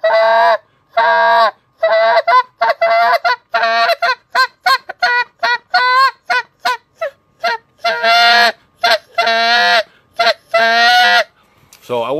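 A goose call tuned to sound like geese blows a rapid string of nasal honks and clucks, loud and close, in rhythmic bursts with short pauses between runs.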